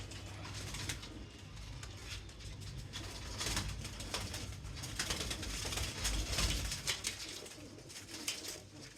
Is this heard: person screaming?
no